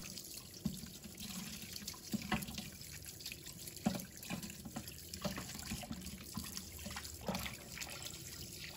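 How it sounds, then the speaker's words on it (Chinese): Tap water runs steadily over chicken legs being rinsed in a kitchen, a faint, close trickling and splashing with small irregular spatters throughout. "然后用流动水把它清洗干净。"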